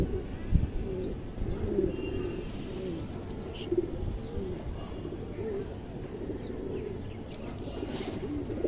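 A male Indian high-flyer pigeon coos in low, steady throbs, with faint thin chirps from other birds in the background.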